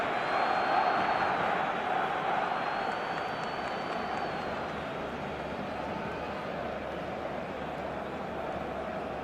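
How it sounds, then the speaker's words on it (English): A steady stadium crowd roar fills an eFootball match, a broad continuous murmur of cheering and chanting at moderate level with no breaks. "the crowd are reacting to that now."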